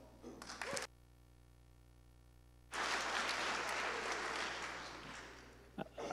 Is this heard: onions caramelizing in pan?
no